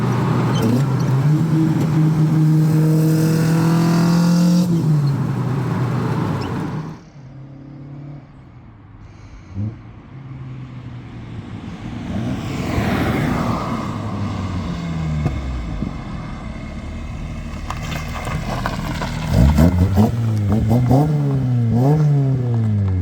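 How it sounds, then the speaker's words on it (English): A Toyota AE86 with a Fujitsubo exhaust revs hard with a throaty exhaust roar, drops to idle and rumbling, then surges again with rising and falling revs near the microphone. "I knew it was gonna sound better than my OBX exhaust"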